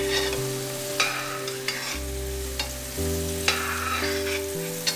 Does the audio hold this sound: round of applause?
no